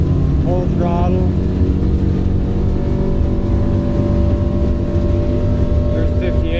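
A 2020 North River 21-foot Fastback boat running its engine at full throttle against the current, a loud, steady, close engine roar with rushing water and wind throughout and a voice talking over it.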